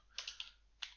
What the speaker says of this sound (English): Typing gets harder and harder the later it gets.